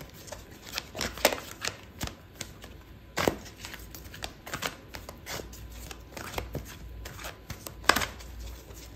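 Tarot cards being shuffled and drawn make a run of quick, close, crisp riffles and soft slaps, irregular in rhythm, with a few louder snaps standing out.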